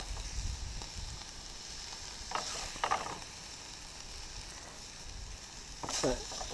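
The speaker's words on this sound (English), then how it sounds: "I'm cooking up a little bit of turkey here." Turkey frying over a campsite fire makes a steady low sizzle, with a few short clinks and scrapes of cooking gear breaking through near the middle and end.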